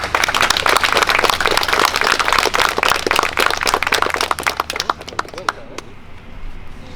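Loud crowd applause for the winner of a summer chess tournament in Szarów, Poland, many hands clapping densely for about five seconds before thinning into a few scattered claps.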